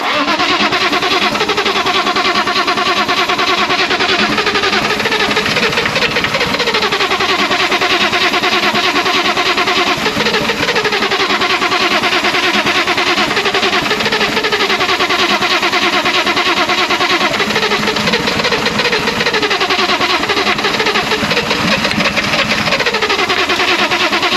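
A BMW E34 car engine, which has sat unused for a long while, starts and settles into a steady idle, with a continuous loud mechanical drone and slight wavering revs throughout, with no talk over it.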